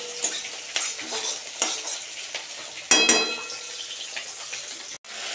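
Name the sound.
spices being sautéed in oil for fish curry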